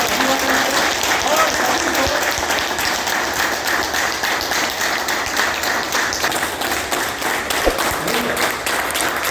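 Loud applause from an audience, a dense steady patter of many hands clapping for the whole stretch, with a voice briefly audible underneath.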